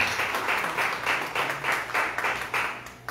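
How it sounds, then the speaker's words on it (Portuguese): Church congregation clapping together during a family worship service, a rhythmic, fairly loud burst of hand claps with steady pulses, with no voices over it. "As palmas vão ao Senhor."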